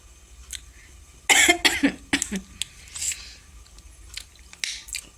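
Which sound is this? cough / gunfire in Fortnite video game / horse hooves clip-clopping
cough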